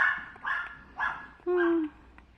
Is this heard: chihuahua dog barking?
yes